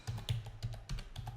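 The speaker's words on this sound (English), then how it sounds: "Then type the password." Password keystrokes on a computer keyboard, a quick run of about eight close, crisp clicks in an uneven typing rhythm, with no voices.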